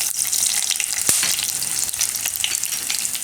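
Garlic hits hot oil for carrot and pea pulao, producing a loud, continuous crackling sizzle up close, with occasional sharper pops and spits throughout.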